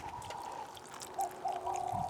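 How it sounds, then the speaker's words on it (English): Water trickles and pours onto the soil around young vegetable plants in a home garden, in soft, faint gushes that rise and fall over about two seconds. "Give it a bit more water there."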